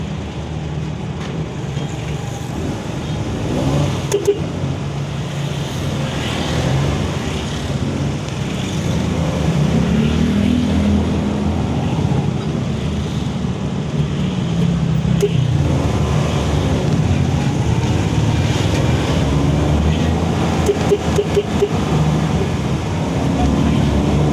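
Road traffic hums steadily around a vehicle in heavy congestion while heading home from work, a dense low engine drone with occasional faint clicks, people talking over it throughout.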